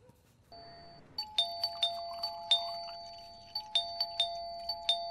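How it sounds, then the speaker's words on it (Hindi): An electronic doorbell at an outside gate rings over and over in a comic scene: a brief two-tone chime, then a rapid run of sharp, bright dings with short gaps between them. "कौन पागल है जेड़ा बाहर गेट ते घंटियां मारी जा रहा है?"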